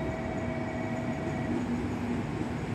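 Train pulling into Kokura station, a steady loud rumble with sustained tonal hum and rail noise throughout, no talking.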